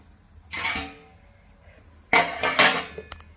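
Metal lid set onto a pot of boiling corn cobs, two clattering contacts: one ringing clank, then after a pause a louder scraping rattle with a couple of short taps at the end, no talk.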